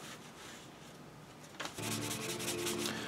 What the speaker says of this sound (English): now I am just running a fine grit soft sponge over the surface